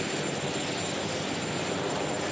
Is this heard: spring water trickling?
no